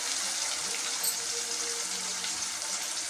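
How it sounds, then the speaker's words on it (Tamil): Water pours steadily into a pan of sautéed tomato and onion for a tamarind curry with shallots, a continuous close splashing rush with no talk. "இப்போ தேவையான அளவு தண்ணி ஊற்றிக்கிறேன்"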